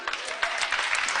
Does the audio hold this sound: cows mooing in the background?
no